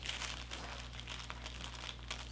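Scissors cut through thick fabric along a sewing pattern with faint, close crinkling and crunching snips, steady and quiet over a low background hum.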